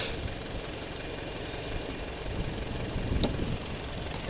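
A 2012 Toyota RAV4 with a 2.0 petrol engine and automatic gearbox idles with a steady, even drone and light vibration, unchanging throughout with a faint tick near the end.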